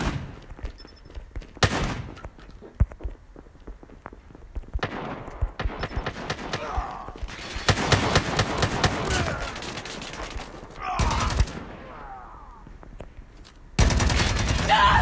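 Shotgun blasts and machine gun bursts in Call of Duty Mobile gameplay, loud sharp single shots followed by long rapid-fire volleys and scattered impacts.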